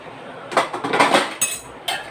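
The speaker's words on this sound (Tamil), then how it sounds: "இப்போ மூடி வச்சிடலாம்" A lid set down on a cooking pot holding eggs simmering slowly in gravy, a quick run of close metallic clinks and rattles, then a couple of sharper taps.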